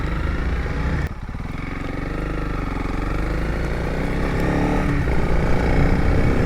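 Honda CRF300L motorcycle on the move, a steady mid-pitched engine drone with wind noise from the rider's position, briefly dipping near the start then building slightly louder toward the end, no talking.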